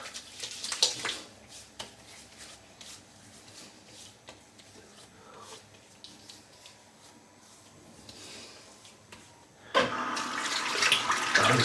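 A tap stays mostly quiet at first, with faint splashes of water and hands after a shave, then runs loudly and steadily near the end for the final rinse.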